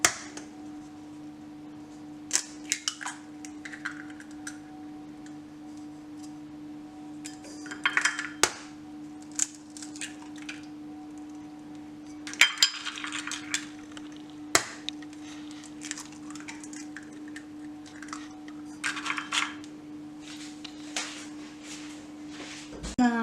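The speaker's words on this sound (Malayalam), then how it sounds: "അതിനകത്തൊരു 3 മുട്ട പൊട്ടിച്ച് ഒഴിക്കാം" Three eggs are cracked into a pudding dish for caramel pudding, giving a few sharp, scattered taps and cracks over a steady low kitchen hum, with quiet gaps between them.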